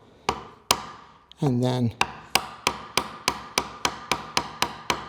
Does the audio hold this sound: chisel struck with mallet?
yes